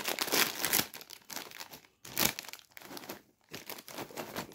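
Plastic wrapper on a Joker snacks box crinkles and crackles as it is torn open, close and busy in irregular bursts with a couple of brief pauses.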